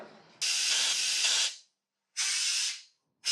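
Harsh hissing bursts from a spray gun nozzle blasting onto a rusty motorcycle swingarm: a long spray of about a second, a pause, another burst, then the start of a third, close and loud.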